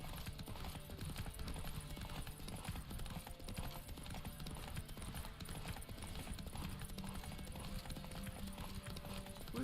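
Roach the horse's hooves clip-clop at a steady gallop in The Witcher 3, a dense, continuous rhythm of hoofbeats set against game ambience, quiet overall.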